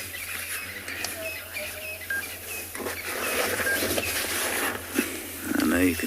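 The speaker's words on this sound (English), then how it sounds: "I know you can hear all the birds." Birdsong at sunrise on a safari in the Kalahari reserve, with several birds chirping and calling steadily throughout, mixed with rustling and some movement close by, over a low hum.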